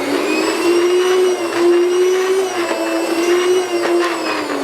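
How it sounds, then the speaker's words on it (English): An electric meat slicer cuts honey garlic sausage with a loud, steady motor whine. The pitch stays level and wavers only slightly, with no voices. "This is a pretty cool machine here. It's a meat slicer."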